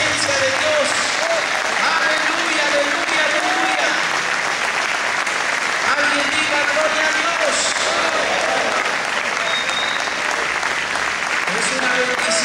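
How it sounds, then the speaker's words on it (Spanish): Church congregation at a Spanish-language service applauds loudly and continuously, a dense, sustained roar of clapping with voices calling out over it throughout. "fuerte ese aplauso por 30 segundos que suba a la presencia de Dios."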